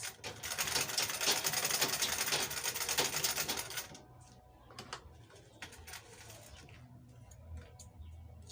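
A sewing machine stitches a flex wave bag, a loud continuous mechanical whirr for several seconds before stopping, followed by quieter scattered clicks and handling noises.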